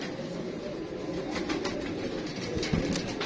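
Bajrai Dewbandi pigeons coo softly and repeatedly nearby over a steady low rumble in the background.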